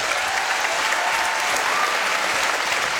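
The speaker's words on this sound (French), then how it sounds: "Je pense qu'on peut applaudir les chevaux maintenant qu'ils sont partis." A television studio audience breaks into a thick, sustained wash of applause, loud and even throughout, with no voices standing out.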